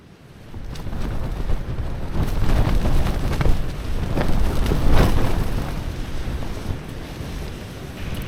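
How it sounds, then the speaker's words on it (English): Strong wind roars and buffets steadily outside a tent at a wild campsite after a quiet start, with loud gusting surges and flapping rumble close by, no voices. "I knew it was getting windy, but this is crazy."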